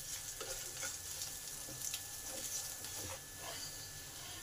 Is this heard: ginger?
yes